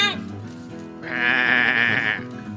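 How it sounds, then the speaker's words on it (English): A sheep bleats once in a long, wavering, nasal cry, loud and close, following a brief voiced sound at the start. "What sound does a sheep make? Bah."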